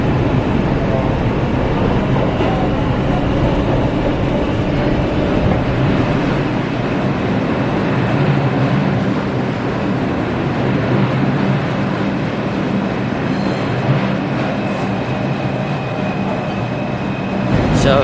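A New York City 4 train rumbles steadily through the subway with a loud continuous roar and rail noise, unbroken for the whole stretch.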